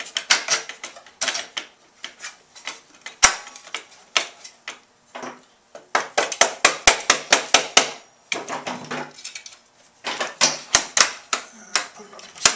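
A bolt is worked into the front mount of a Slavens Racing Xtreme Link snowmobile skid, heard as close, sharp metallic taps and knocks in irregular bursts with brief pauses between them.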